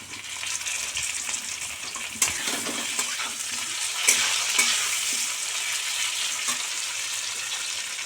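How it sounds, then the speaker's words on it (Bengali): Fried potatoes with tomato sizzling in a pan, a bright continuous hiss with scattered scrapes and clinks as the mixture is stirred, heard close with no speech. "আলুগুলো ভাজা হয়ে গেছে, এবার একটু টমেটো দিয়ে দেবো।"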